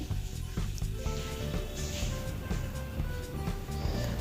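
Spinach paste is poured into chicken frying in a pan, raising a continuous soft sizzle with wet squishy splatters and a few light knocks.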